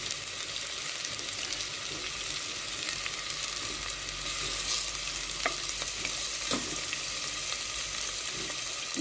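Onion and garlic frying together in a pan give a steady, dense sizzle with a few sharp clicks and scrapes of stirring, close and fairly quiet, no voices.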